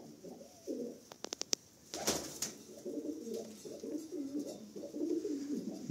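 Large-breed pigeons coo in low, rolling phrases from close by, broken early by a quick run of sharp clicks and a brief clatter, then continuing steadily.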